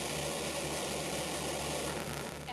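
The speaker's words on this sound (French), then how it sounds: "Le moteur d'abandon est celui qui se déclenche si quelque chose arrive à la fusée et qui tire le module avec l'équipage." Artemis launch abort motor firing: a thick, steady roaring rumble that holds at a constant level before easing slightly at the very end.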